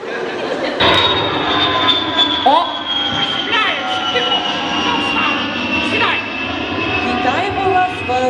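Airplane landing at Uzhhorod airport, heard from inside the cabin: a loud, sustained engine roar with a steady high whine and shifting tones over the full length, while passengers talk underneath.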